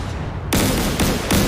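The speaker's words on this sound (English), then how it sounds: "Look at the size of explosions from the size of these shells." Heavy WWII naval shell explosions in a DCS World battle boom out as several loud, sharp blasts in quick succession, each bursting over a rumbling background of ongoing gunfire.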